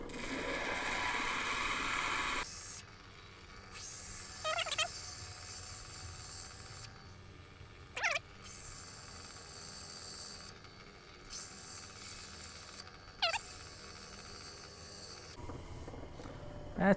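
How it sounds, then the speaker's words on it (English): A dragon blood stone cabochon has its edge ground at a 45-degree angle, giving a steady close rasping, rubbing drone that breaks off and restarts in several passes, with brief sharp scrapes between them. "So I'm going to grind it down just a little bit more"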